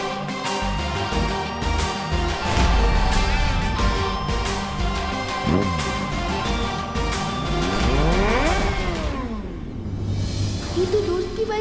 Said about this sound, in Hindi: ये तो दोस्त की बाइक की ही आवाज है।